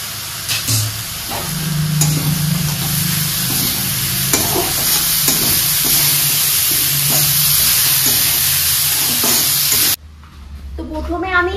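Khoya stirring and cooking in a pan gives a loud, steady sizzle with repeated scraping strokes of a spoon. It runs continuously for about ten seconds, then cuts off abruptly.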